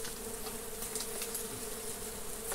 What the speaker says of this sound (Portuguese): Eita, essa abelha tá aqui na lata aqui, ó.